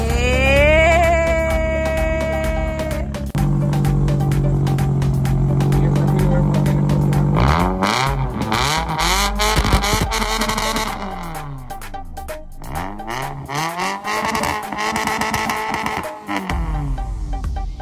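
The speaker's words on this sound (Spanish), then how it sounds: "Miren cómo suena. A él le va a encantar, es un carro deportivo." A sports car's engine revs repeatedly, its pitch sweeping up and down in bursts with a steady idle between, loud and close, and people talk in the background.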